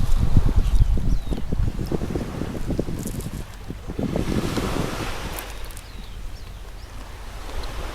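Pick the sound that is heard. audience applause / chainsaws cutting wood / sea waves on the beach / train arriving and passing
sea waves on the beach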